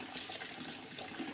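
Steady rushing water washing the filter sponge from a 3-inch PVC pipe water filter clogged with mud, a continuous close splashing flow.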